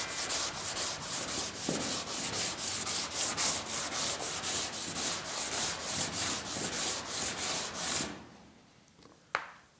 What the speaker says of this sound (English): So let's go ahead and sand this.